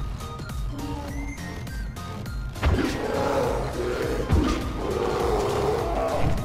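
A bear in the video game Far Cry Primal lets out a low, rough roar that starts abruptly after a few seconds of quieter game ambience, then rumbles on at moderate loudness with a couple of sharper peaks, no talking.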